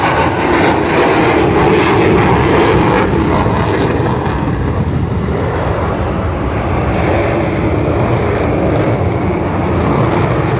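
A Ukrainian Sukhoi Su-27 jet flying a display at RIAT, a loud, continuous engine roar that stays close and powerful for the whole stretch, with no talk.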